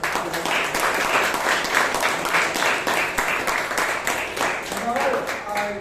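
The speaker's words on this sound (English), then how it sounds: "Give a round of applause." Audience applause fills a Toastmasters meeting room in Bangalore, a steady dense patter of many hands clapping for several seconds, fairly loud and continuous, thinning slightly near the end as a voice begins.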